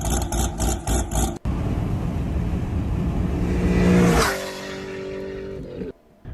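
Corvette ZR1 engine revving hard nearby, a loud roaring burst that climbs and then falls away to a lower settling note.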